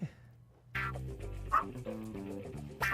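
A small dog barking excitedly in short, high yips, a quiet moment first and then a quick run of sharp barks close by.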